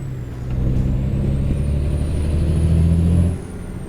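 A garbage truck in the American Truck Simulator game rumbles past with a steady low engine drone that swells and holds before cutting off, with no talk over it.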